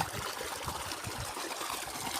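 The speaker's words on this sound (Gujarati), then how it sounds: "અહીંયા એક પાણી ચાલુ છે" Irrigation water runs on a farm, a steady trickling, splashing flow that carries on evenly and close by with no voices.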